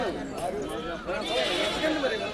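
Goats at a busy goat market bleat in wavering calls, close by and mixed with crowd noise and voices of people talking nearby.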